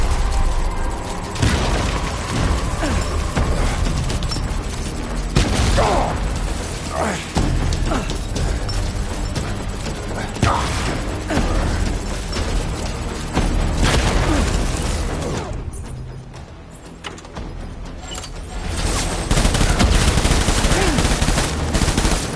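Sustained gunfire in the video game Death Stranding: dense, loud automatic bursts and mechanical clatter fill the whole stretch, easing briefly before erupting again.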